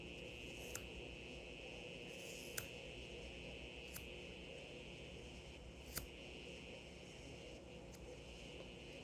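Scissors snip hair during a home haircut, a handful of faint sharp clicks spaced a couple of seconds apart over a steady background hum.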